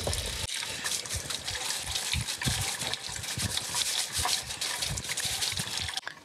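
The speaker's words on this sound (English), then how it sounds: "I'm just gonna give these a brush with some water" Brisk scrubbing of fig cuttings with a plastic brush in water, rapid irregular strokes splashing and swishing close by, continuous for several seconds.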